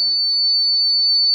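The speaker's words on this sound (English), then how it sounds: "You can see the difference in this buzzer sound" A conductivity detector buzzer sounds in sodium chloride solution, giving one steady, loud, high electronic tone that holds unbroken from start to finish.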